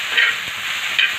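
Salted green tomatoes being stirred in a pan for chutney, with a continuous soft sizzle and two brief scraping swishes of the spoon, close and alone.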